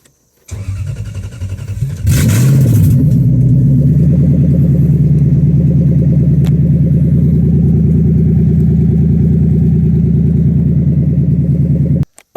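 A Lexus IS300 with a swapped 1UZ engine turns over and starts, revs briefly, then runs at a loud, steady idle for several seconds before cutting off.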